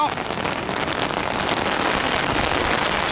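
Steady heavy rain pouring down at an airport, a dense hiss of drops striking surfaces close by, loud and continuous throughout.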